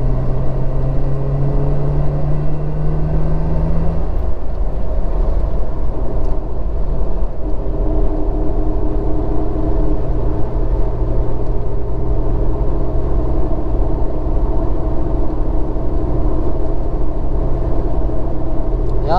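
A Nissan Skyline R33 GT-R (BCNR33) accelerates on an expressway, its steady engine drone rising in pitch early on, then settling into a loud, continuous rumble with road and wind noise and no talking.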